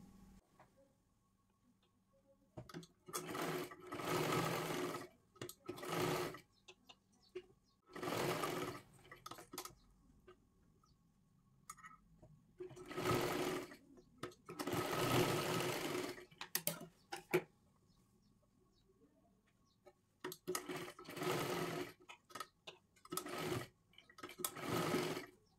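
A sewing machine stitches the shoulder seams of a three-piece princess blouse in several separate bursts of rapid whirring, each lasting a few seconds with quiet gaps between them.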